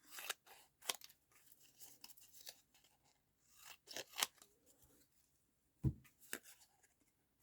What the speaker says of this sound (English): I'm just going to cut that down again.